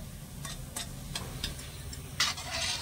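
Sitabhog sweets frying in oil: a steady low sizzle with a series of sharp, regular clicks from a utensil, close and moderately quiet, with no talking.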